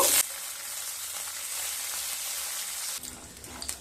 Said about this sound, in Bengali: এবার কিছুটা কাজু আর চিনে বাদাম ভেজে নেব